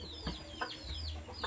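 A rooster clucks in short bursts close by in a farmyard with many hens, a few quick throaty calls over a low background hum, with no talking.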